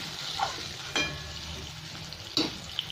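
Bay leaf, dried chillies and whole cumin frying in hot oil for a vegetable dal, a soft steady sizzle with a few sharper crackles and pops, close and fairly quiet.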